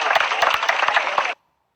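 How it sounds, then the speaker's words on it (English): A crowd bursts into loud, dense applause for a juggler who has just kept five rings in the air, steady clapping filling the space before it cuts off abruptly. "the crowd gives him a loud applause"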